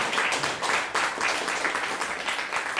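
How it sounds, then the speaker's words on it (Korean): An audience at a Korean political party debate forum applauds together, a dense, sustained clapping with a slightly pulsing rhythm at moderate loudness. "박수로 한번 동의를 해주시면"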